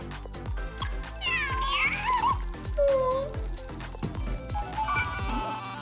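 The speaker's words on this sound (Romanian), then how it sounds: "Pisicuța noastră tot vrea ceva." A pet cat meows several times, close by, with rising and falling plaintive cries over a busy, rhythmic background.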